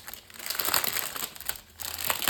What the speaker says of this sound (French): On va ouvrir le petit paquet.